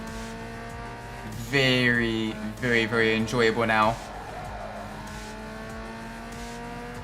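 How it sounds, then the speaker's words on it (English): A tuned car revs in the street racing game Need for Speed Underground 2, its turbocharged engine with a blow-off valve climbing and falling in pitch through a short burst before settling to a steady drone, while someone talks over it. "the car sounds good. It's got the turbo blow-off valve."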